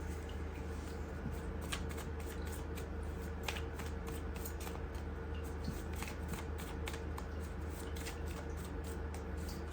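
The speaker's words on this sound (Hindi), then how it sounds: "थोड़ा और शफल कर लेते हैं" Playing cards are shuffled repeatedly at close range, a steady papery riffling and flicking that runs throughout with no talk over it.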